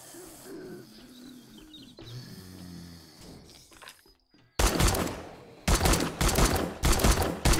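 Rapid bursts of gunfire in the survival game 7 Days to Die, Alpha 20, loud clustered shots after a quieter stretch of ambient game sound.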